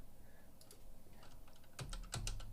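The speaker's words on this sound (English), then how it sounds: "I will type it here." Keys on a computer keyboard click quietly in short irregular bursts, a faint patter that grows a little louder and denser toward the end, with no talking.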